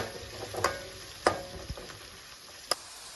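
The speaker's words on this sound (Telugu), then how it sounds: "ఇప్పుడు ఉల్లిపాయ ముక్కలు పచ్చిమిరకాయలు పచ్చి లేకుండా చక్కగా ఫ్రై అయిపోయినాయండి" Onion pieces and green chillies frying in a pan for a fenugreek-leaf dal, a soft low sizzle broken by a few sharp clicks and scrapes of stirring, close and quiet with no talk.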